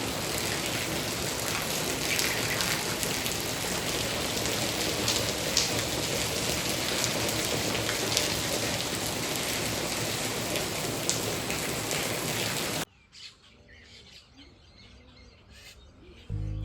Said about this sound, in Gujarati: જો અત્યારે હાલનો લાઈવ વરસાદ છે